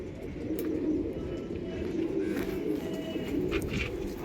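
Pigeons cooing close by, a steady overlapping murmur of low throaty coos with a few higher chirps and faint background noise.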